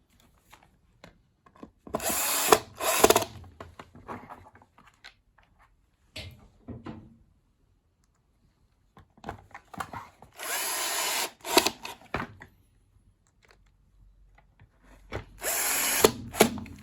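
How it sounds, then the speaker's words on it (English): Screws driven back into the casing of a Numatic Henry Micro vacuum with a power driver, several short separate whirring bursts close by, separated by quiet gaps and light handling noise. "Let me get these screws back in."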